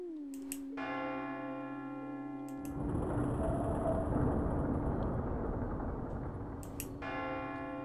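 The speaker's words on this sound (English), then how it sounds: "Turns out there is a bell that I can ring three times." A bell in the puzzle-horror video game Tormentum is struck several times. Resonant, sustained ringing tones decay slowly, a rumbling noise swells in the middle, and a final strike rings out near the end, with no talking.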